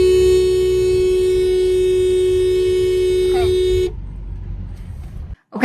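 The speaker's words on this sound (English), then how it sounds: "so we're gonna hit the horn and see what happens." A steady car horn blares continuously for about four seconds, loud and close, then cuts off, leaving quiet background with a brief rustle at the end.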